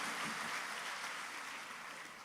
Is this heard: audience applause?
yes